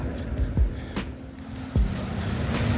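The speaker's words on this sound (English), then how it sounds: "you just gotta love the sound of those waves of the river lapping against the shore" River waves lap softly against the shore in Lisbon, Portugal, beside a moored yacht; gentle splashes arrive every second or so over a steady background wash and light wind.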